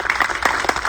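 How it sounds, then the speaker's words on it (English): Brief burst of audience applause at a media event in Mumbai for the film RRR, dense steady clapping up close for about a second. "So a big round of applause to"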